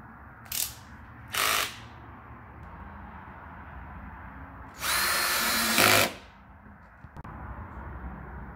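A cordless battery drill fastening an axle on a wooden oyster basket jig: two short whirring bursts, then a longer one of about a second, close and loud over a quiet workshop background, with no talking.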